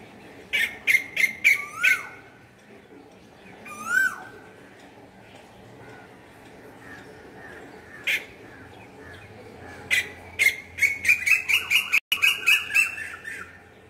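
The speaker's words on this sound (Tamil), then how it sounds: "இன்னொரு நாள் அந்த பேர்ட்ஸையும் கவர் பண்ணி காமிக்கிறேன் உங்களுக்கு. இப்போ வெறும் சவுண்டு மட்டும் தான் காமிச்சிருக்கேன்." Birds call loudly behind a house, bursts of rapid sharp chirps and squawks in quick runs separated by quieter gaps, with a few isolated single calls and faint background noise.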